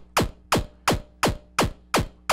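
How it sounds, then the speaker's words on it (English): Sound run through a Koma Elektronik bit crusher effect: seven sharp, evenly spaced descending zaps repeat in a steady rhythm, crunchy and gritty, with no talking. "And this is just a bit crusher."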